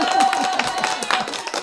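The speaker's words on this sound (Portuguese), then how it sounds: "Palmas, por favor." An audience claps for a guest presenter at an online marketing class, scattered, fairly close hand claps under a murmur of voices and a sustained tone.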